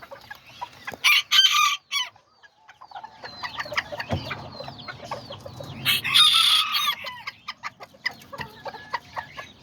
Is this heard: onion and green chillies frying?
no